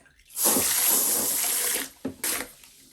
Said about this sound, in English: You take your sprayer here, and then you're just going to spray it off.